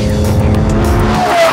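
A Porsche sports car with a 3.8-liter turbocharged flat-six engine, loud and close, with a dense steady engine roar, rising tones and a brief tire squeal.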